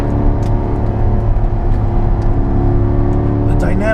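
A 600 hp Magnuson-supercharged C7 Corvette Z51 accelerates with a loud, steady engine drone and harmonic whine from inside the cabin, its pitch rising near the end, while someone talks over it.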